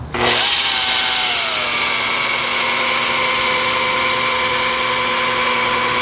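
A boat-hull polisher running steadily at about 1,000 RPM while compounding, a continuous close motor whine with a sharp start and an even, unbroken hum throughout, no talking.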